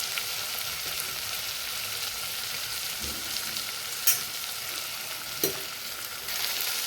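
Soybean pulao masala with chilli powder and turmeric sizzles softly in a pan, a continuous low hiss with a couple of sharp utensil clinks near the end, close up and without speech.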